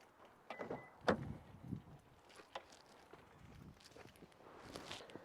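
Someone gets back into a 2022-or-later Honda car, with rustling, a few shuffling movements and a solid thump as the door closes, followed by quieter interior shifting sounds.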